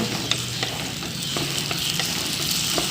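Fried egg pieces stirred into Manchurian masala in a pan, giving a constant loud sizzle with a series of spatula scrapes and taps at an irregular pace.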